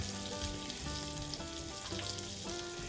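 Steady, dense sizzling of asparagus frying in butter in a hot skillet, continuous and close, with faint tonal hum beneath.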